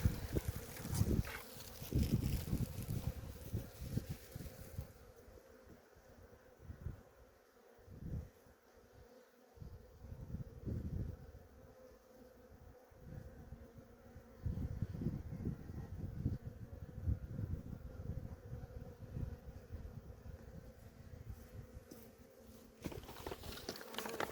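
Honeybees buzz steadily throughout a queenless beehive inspection, a dense close-up drone with louder swells near the start and end and occasional handling knocks.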